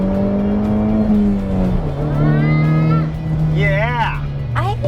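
A 2020 Ford Mustang with a 2.3 liter turbocharged engine accelerates hard, its engine tone climbing steadily and close by, with people talking and exclaiming loudly over it throughout.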